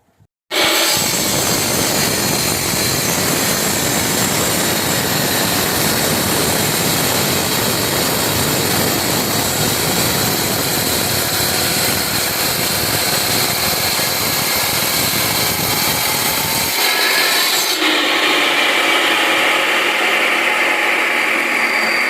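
A power saw whines loudly and steadily for about sixteen seconds, then drops into a thinner, lighter pitch as the cut finishes.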